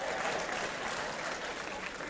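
Audience applause at a live African comedy show in Bamako, a dense steady clapping that fills the whole moment at close range with a faint murmur of the crowd beneath it.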